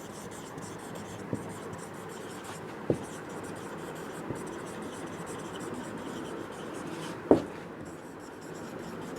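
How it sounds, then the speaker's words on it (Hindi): Writing during a class 10 maths lesson gives a faint steady scratching under room noise, with a few sharp knocks and taps, the loudest near the end. "तो हम लिखेंगे बोथ द एक्सप्रेशंस"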